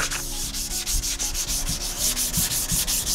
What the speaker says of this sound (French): l'idée c'est de poncer comme ça sur le foil